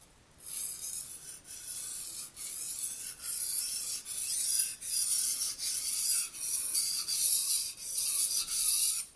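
A knife sharpened for the first time, on its second pass: a steady run of about ten close, rasping strokes, each a bright scraping swipe with brief pauses between, even in loudness throughout.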